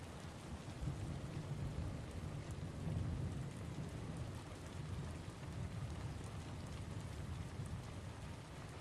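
Steady, dense rain pours on surfaces during a thunderstorm, with a low rumbling layer of distant thunder running beneath it. The sound stays constant and enveloping throughout, without a voice.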